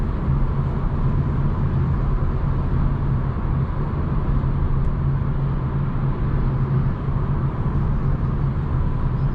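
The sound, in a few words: 2021 Hyundai Elantra N Line driving on road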